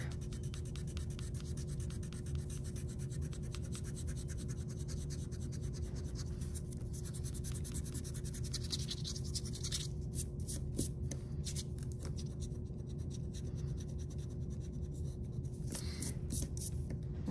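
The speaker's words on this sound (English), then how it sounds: "Now, I'm going to use my marker to do the shadows. I'm going to kind of color in the side spot." A marker colours in shadows on hand-drawn lettering artwork, making faint, steady scratchy strokes that repeat continuously without any talking.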